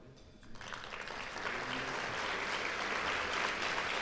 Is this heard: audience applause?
yes